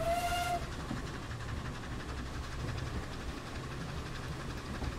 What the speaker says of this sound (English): We have to whistle at every level crossing